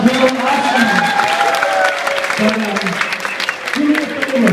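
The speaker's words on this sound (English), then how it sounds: "And as they come back, give them all a big round of applause." Audience applause at a senior class hypnotist show, sustained clapping mixed with crowd noise and some cheering while a voice talks over it.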